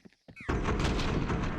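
Rapid gunfire burst from a Counter-Strike match at a BLAST Premier Spring esports event, a dense crackling volley that starts abruptly after brief caster speech and continues loud to the end.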